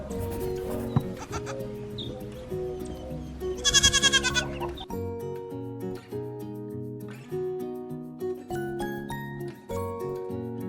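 Eight-week-old goat bucklings bleat repeatedly in a farm setting, with high wavering cries over one another and one loud close bleat standing out, and faint jingling nearby.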